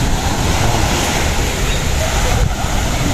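Strong sea waves surge against the shore of Zaragoza Island in gusty weather, a loud, continuous roar of surf mixed with wind buffeting the microphone.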